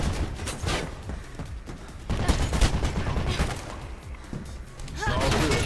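Enemy gunfire in the video game Mirror's Edge crackles in dense, overlapping bursts, with rapid shots and impacts rolling on and off through the clip, loudest near the start and end, mixed with game noise.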